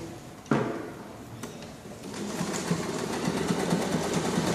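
Sewing machine running a zigzag stitch along the edge of stretch fabric for a pillowcase, a steady mechanical whir that starts with a sharp click and carries on continuously, close and fairly loud.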